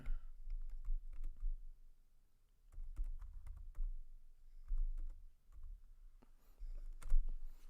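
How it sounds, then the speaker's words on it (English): Rapid, uneven clicking of keys on a computer keyboard, close up, coming in bursts with brief pauses and no talk over it. "Where's the underscore at on this fucking keyboard?"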